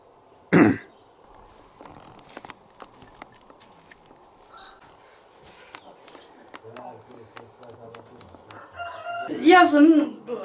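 Chickens around a mountain plateau house with no electricity, a short loud burst near the start and clucking and crowing bursts toward the end, over quiet rural background with some voices.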